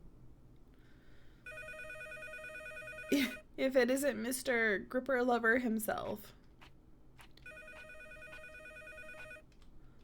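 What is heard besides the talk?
telephone ringing in a horror video game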